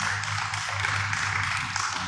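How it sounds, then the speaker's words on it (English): Audience applause for the debaters at a youth forum debate on marriage, a steady wash of many hands clapping together at close range, dense and continuous for the whole stretch with a low hum underneath. "please give our debaters a round of applause"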